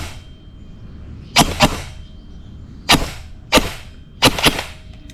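An E&C EC-105 Special Edition airsoft rifle firing, heard as five or six sharp, loud cracks in short bursts and singles spread across a few seconds over a low background hum.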